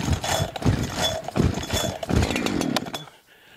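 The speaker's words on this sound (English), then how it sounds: "The first saw I've got is a 70cc Perla Barb chainsaw, and I'll show you how to start it." A 70cc Perla Barb chainsaw fires up loudly up close, its engine sputtering and revving in ragged bursts for about three seconds before abruptly cutting out to near silence.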